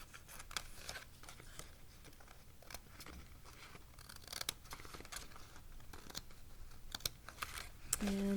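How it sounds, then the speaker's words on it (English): Scissors trim fabric and paper during a craft session, a faint run of small crisp snips and rustles at irregular intervals, close but quiet against a soft room background. "Now I can trim the fabric and the paper"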